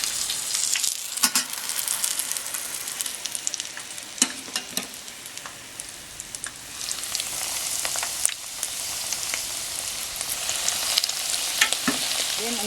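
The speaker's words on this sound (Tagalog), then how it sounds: "ituloy lang natin yung ganitong process hanggang sa matapos po natin ma-fry lahat itong ating mga shishamo fish" Shishamo fish deep-frying in hot oil, a steady broadband sizzle running throughout with a few sharper crackles and pops, close and moderately loud, no voices.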